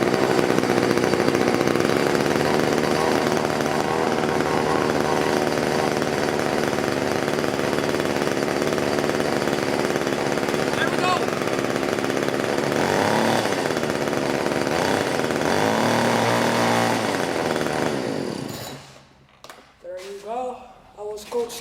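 Variolux blower engine running after a cold start, a loud, harsh, buzzing two-stroke drone held steadily close by, then cutting out abruptly, leaving brief faint noises.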